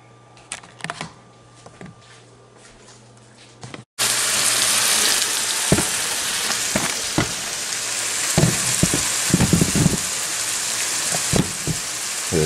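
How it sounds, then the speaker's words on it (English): Onion and garlic hit hot oil in a pan after a quiet start, then a loud, steady hiss and crackle of sautéing continues close up, with occasional stirring clicks and no talk. "We have our oil heating up with the onion and the garlic"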